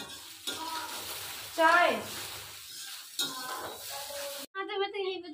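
Idli frying in a pan, a steady broadband sizzle with stirring and scraping, joined by brief bursts of conversation between household members.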